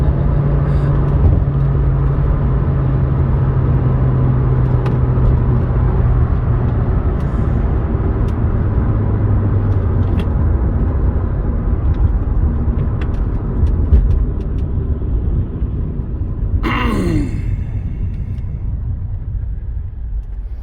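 A Mercedes W201 190E 16v driving, its engine a steady loud interior rumble with a tone that falls as it slows, a brief squeal-like sweep near the end, and no talking.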